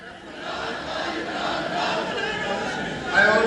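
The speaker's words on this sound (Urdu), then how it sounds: "وہ آصف علی زرداری جناب کے خلاف نعرے لگا رہے تھے۔" Members of Pakistan's parliament shout political slogans against Asif Ali Zardari during a rowdy joint session, a loud crowd of overlapping voices in a large chamber that swells sharply near the end.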